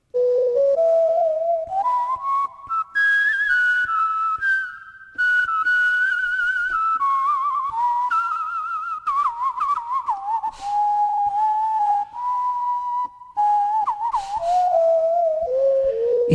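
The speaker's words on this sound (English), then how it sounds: "Check out this whistle sound." A Korg PA-600 keyboard's whistle voice plays a sliding, breathy melody that rises and falls through sustained notes, with brief gaps between phrases and nothing else around it.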